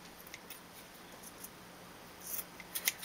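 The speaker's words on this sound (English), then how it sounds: "then you can trim away all the excess thread" Scissors trimming excess thread from a fabric gift bag, faint quiet snips scattered across a hushed room, with a few sharper clicks near the end.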